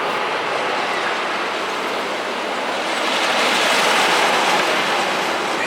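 The Silver Comet wooden roller coaster train rumbles along its track in a steady, loud roar that swells slightly partway through, with no talk heard.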